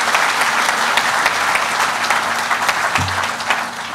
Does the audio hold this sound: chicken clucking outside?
no